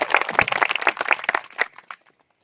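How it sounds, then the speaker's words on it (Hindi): A congregation at a Christian sermon on the birth of Jesus applauds in a quick burst of dense clapping that thins and fades out after about two seconds, with no talk over it. "आइए जोरदार ताली बजा करो, पवित्र परमेश्वर की महिमा करो।"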